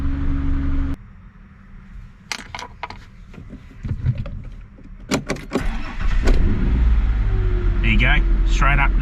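A Mazda Bravo B4000 ute with an idle control valve fault and rough cold starts cranks briefly and fires straight up, then settles into a steady, loud idle near the microphone, with short clicks and a voice partway through.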